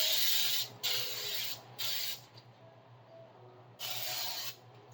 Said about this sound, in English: So I have just a can of butter flavored spray here